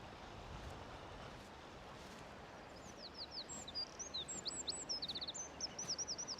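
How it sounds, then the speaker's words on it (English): A wren sings loud, rapid trilling phrases in quick bursts over a steady rush of wind or water in the background. "Another loud wren."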